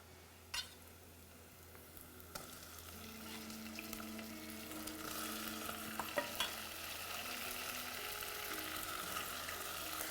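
Tomatoes going into a pot of minestrone vegetables: a soft clunk and scrape, then a quiet sizzle that grows under faint clinks of a utensil, with a low hum behind it.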